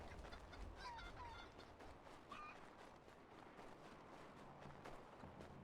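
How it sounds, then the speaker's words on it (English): Faint chicken clucking and honking fowl calls in Assassin's Creed 3 over a constant noisy background, scattered and distant. "Look at all these chickens."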